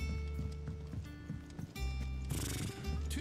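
A horse in the video game Final Fantasy XVI clops its hooves and whinnies over sustained game music, fairly quiet and continuous, with a brighter burst near the end.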